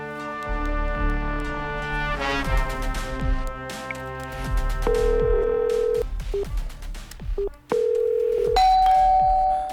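A phone produces a steady electronic tone with short beeps while a call is placed, over a loud, dense musical background of struck tones and sustained notes.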